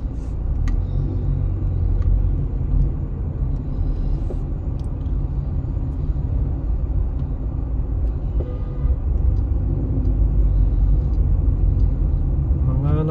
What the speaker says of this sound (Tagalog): Dito talaga sa tapat ng Dubai Mall, papasok ng Dubai Mall. Siksikan mga sasakyan.